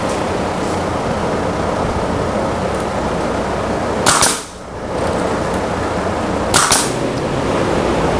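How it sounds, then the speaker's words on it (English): A nail gun fires two sharp, loud shots a couple of seconds apart, fixing vertical back braces on garage cabinets, over a steady hissing background. "I'm just nailing them up now"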